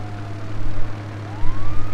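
A police car siren wails loudly in the GTA Online video game, rising and falling in sweeping glides over a steady low engine hum, with no talking.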